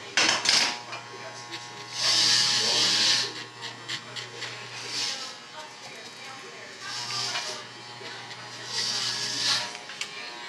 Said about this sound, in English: Now I'm gonna take my clipper, my adjustable clipper, all the way open.